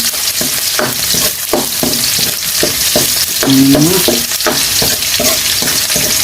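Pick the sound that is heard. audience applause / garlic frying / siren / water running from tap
garlic frying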